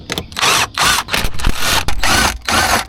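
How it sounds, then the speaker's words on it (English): Bolts holding the airbag module are being unfastened beneath the dashboard of a second-generation Lexus RX 350 AWD. Loud, close bursts of mechanical tool whirring repeat in a rough rhythm, separated by brief pauses. "Now we'll remove these three bolts, 1, 2 and third one over here."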